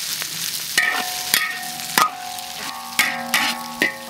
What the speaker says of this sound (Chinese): 让它炒香一点